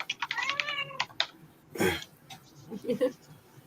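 A cat meows several times in quick succession, close and fairly loud, with a few light keyboard taps and some nearby human vocal sounds mixed in.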